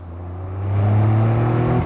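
A Caterham Seven SuperSprint engine revs hard as the car powers out of a corner after heel-and-toe braking, a loud, rising drone that builds steadily and holds near the limit before cutting off abruptly.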